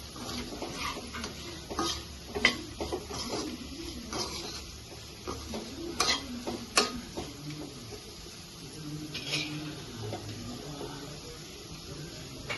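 Mutton fry with chili powder being stirred in a pan: soft intermittent scraping and clinks of a spoon against the pan over faint frying, close but fairly quiet, with no clear speech.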